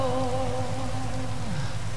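Heavy rain pours steadily onto a street, a constant dense hiss with a low tonal hum running underneath throughout.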